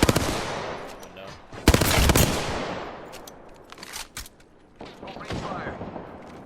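Apex Legends gunfire crackles in several sharp automatic bursts separated by short pauses, loud and near, with bright ringing tails fading between volleys.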